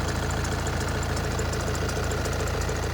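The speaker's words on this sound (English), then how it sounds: "So I'll just let it idle, let it get up to temperature." Diesel engine of a 2014 VW Passat TDI idling, a steady, close, rhythmic clatter with a constant knocking pulse and a continuous mechanical hum, with no talking.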